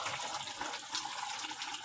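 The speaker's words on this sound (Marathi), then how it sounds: "आपण हे गरम पाणी त्यात घालूया." Hot water poured into a pot of mutton curry (mutton rasa), a steady close pouring and splashing stream lasting under two seconds with no talk.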